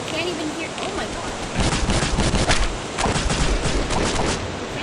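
Rapid bursts of gunfire from the video game Postal 2, dense crackling volleys that swell in the middle and keep going to the end, loud and busy with a rain-like wash behind them.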